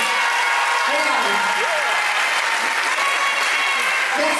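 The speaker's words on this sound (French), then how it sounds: "Applaudissez-la très très fort, s'il vous plaît." An audience at a beauty pageant applauds a contestant in a sustained, loud, even round of clapping, with faint voices mixed underneath.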